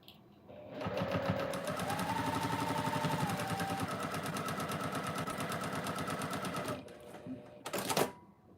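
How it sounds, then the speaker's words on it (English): A sewing machine runs steadily at a fast, even rhythmic clatter for several seconds, then stops, followed by a brief mechanical whir. "The DX is now my upstairs conference call sewing machine"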